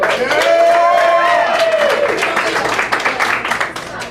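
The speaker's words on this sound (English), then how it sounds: "Clap really loud if you want whoever to win" A comedy competition crowd claps and cheers for a comedian, steady, dense applause with whoops over it that thins toward the end.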